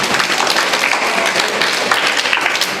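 An audience claps steadily at a Kannada literary council gathering for students in Mangaluru taluk, with dense, continuous applause for nearly three seconds.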